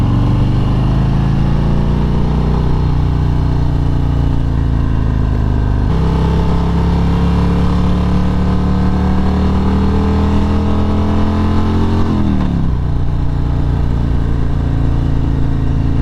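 An 850 pound motorcycle accelerating along small country roads, its engine droning loudly and steadily, rising in pitch through the gears with shifts around six and twelve seconds.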